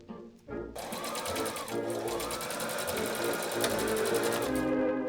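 Close by, a sewing machine runs in one continuous, even burst of rapid stitching while joining the facing pieces of a 1920s-style dress, with a brief hum and a pause at the start.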